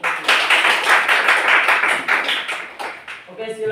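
A group of students in a school classroom clap their hands together in dense, sustained applause lasting several seconds, loud and close, fading slightly toward the end.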